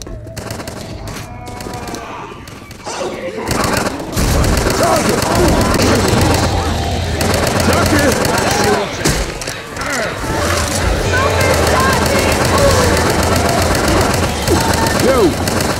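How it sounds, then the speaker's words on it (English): Rapid automatic gunfire in a video game, dense and loud bursts rattling almost continuously over background game noise, with a voice talking through parts of it. "stop shooting me"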